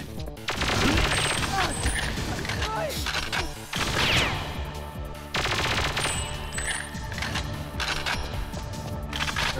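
A CMP-150 submachine gun fires in GoldenEye 007 in long sustained automatic bursts, loud and close, with brief breaks between volleys and metallic mechanism clatter running throughout.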